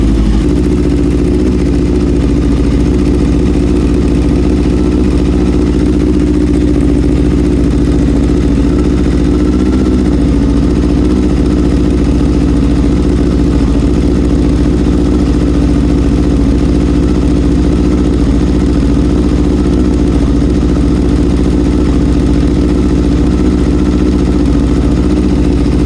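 A Honda CBR600 F3 motorcycle idles steadily on its first start despite a fuel leak, its low, even engine rumble loud and close and holding without revving for the full stretch, with no talk over it.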